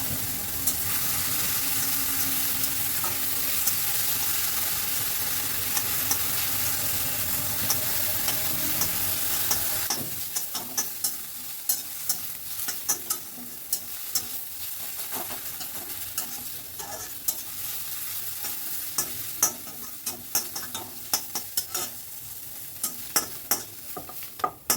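Chopped fenugreek leaves fry in white oil in a hot wok. A steady, loud sizzle fills the first ten seconds, then settles into quieter frying with repeated sharp scrapes and clinks of stirring.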